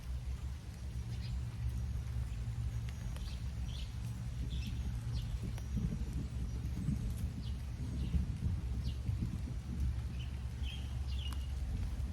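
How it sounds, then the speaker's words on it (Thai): Steady rain falling outdoors during planting, a dense continuous hiss with a low rumble underneath and occasional faint chirps in the background. "ฝนตกค่ะฝนตก"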